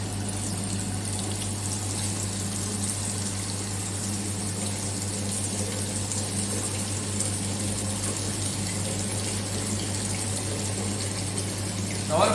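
A water jet pouring from an orifice meter into a collection vessel, a loud continuous gushing flow with a steady pump-like hum underneath, unchanging for the whole stretch.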